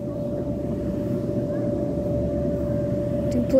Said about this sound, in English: Two planes flying in formation. One's a biplane, one's a monoplane.